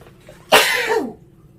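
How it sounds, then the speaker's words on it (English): A single short, explosive burst, like a sneeze, breaks a quiet moment and fades quickly. "I sneezed."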